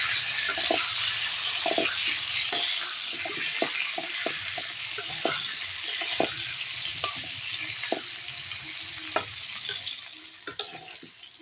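Potato and flat bean pieces frying in oil in a pan, a continuous bright sizzle close up, punctuated by repeated scraping clicks of a spatula stirring throughout.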